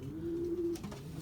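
A single low, steady coo from a racing pigeon in a coop holds for about half a second, close and moderately loud, over faint background rustling.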